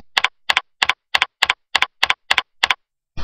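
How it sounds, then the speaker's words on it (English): Computer keyboard keys are tapped at a steady, even pace, about ten crisp clicks close up with brief silences between them, as a search keyword is entered in an antispam program. "type in the keyword in the search box and then press Enter"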